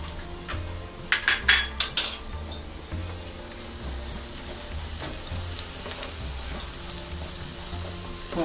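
Crushed ginger and garlic fry in a pan for a butter chicken, giving a steady low sizzle with a few sharp clinks of a utensil against the pan near the start. Occasional faint scrapes follow, and nobody speaks.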